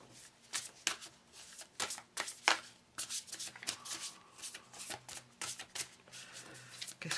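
Tarot cards being shuffled by hand, a run of brisk riffling bursts and soft slaps in an irregular rhythm, close and clear with nothing else heard.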